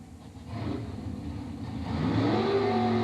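Drag race cars at the Englishtown Super Stock Nationals final sit at the start line as their engines rumble and rise into a swelling rev, loud and building toward the end with no talk.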